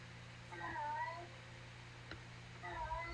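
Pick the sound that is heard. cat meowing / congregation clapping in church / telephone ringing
cat meowing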